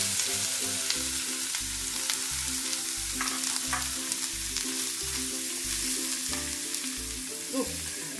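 Grated carrots frying in ghee in a pan for sugar-free carrot halwa, a steady close sizzle with rhythmic stirring scrapes throughout, with nobody talking.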